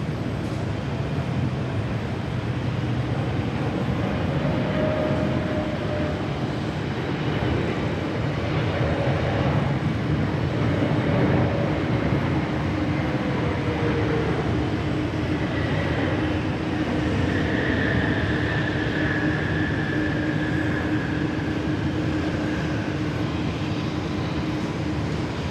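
An Air New Zealand airliner arriving on the runway at Sydney Airport makes a continuous broad jet roar. It stays fairly even and moderately distant for the whole stretch, with faint whining tones drifting through it.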